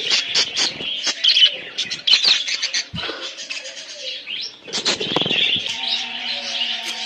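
Many budgerigars at a bird farm chirp and twitter in a dense, continuous chorus of high, busy calls, close and steady with a few louder chirps breaking through.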